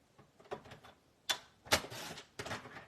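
Paper is cut to size for a handmade card, heard as a few sharp, dry clicks and short swishes spaced irregularly, fairly close and at moderate volume, with no talk.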